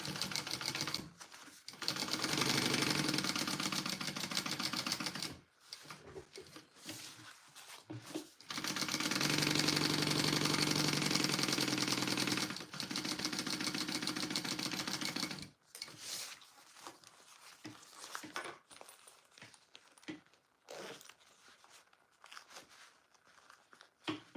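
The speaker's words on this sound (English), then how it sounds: "I pull out the lining and I'm going to sew up around my pocket." A sewing machine runs in several bursts, stitching around a zipper pocket from the lining side of a Lettie Mini Bowler bag, its rapid mechanical whir stopping and restarting between runs, with quiet handling rustles in the pauses.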